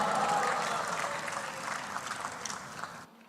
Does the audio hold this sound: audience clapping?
yes